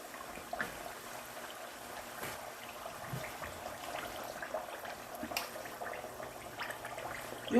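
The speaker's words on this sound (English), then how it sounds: "See, it's frying." Pepper sauce frying in a pot on a stove, giving a steady, close, crackling sizzle with scattered sharp pops throughout.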